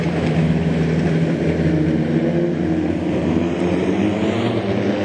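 National 4s race cars roar around Gympie Speedway in a final, a loud, steady engine drone with no breaks, heard from close by.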